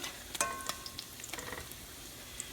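Salmon patties fry in a pan with a soft, steady sizzle, broken by a few light clicks and scrapes as they are turned, heard close but quiet.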